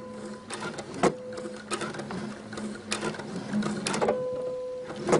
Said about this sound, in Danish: og så lige et par sting frem og et par sting tilbage.